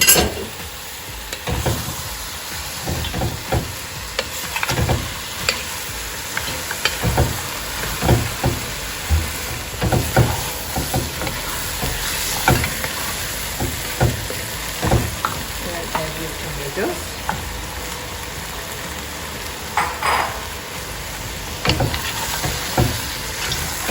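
Marinated mutton frying in a pan with Thai chilies for a Sri Lankan curry, a steady loud sizzle broken by regular knocks and scrapes of stirring, close up and continuous.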